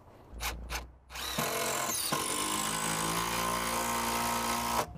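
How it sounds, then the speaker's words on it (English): A power drill drives 100mm hex head screws through a roughly 75mm thick PowerFloor deck panel into a joist, with a few short bursts followed by a loud, steady run of several seconds. "Now we're ready to screw off the first panel."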